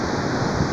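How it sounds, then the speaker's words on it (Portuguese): An overflowing creek near Nangé, Bahia, swollen by heavy rain, rushes in a steady, dense roar of churning water, loud and close with no pauses and no talk. "riacho próximo a Nangé, transbordando"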